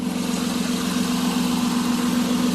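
A 2011 Nissan Maxima SV's 3.5-litre VQ35DE V6 idles through a loud custom exhaust, a steady low droning hum that holds even and unbroken from start to finish, with no voices.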